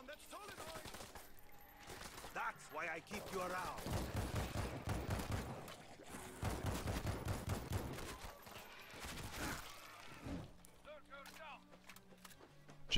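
Gunfire in the game World War Z Aftermath crackles as fast, sustained bursts and scattered shots. A player talks over much of the shooting, and the firing thins out near the end.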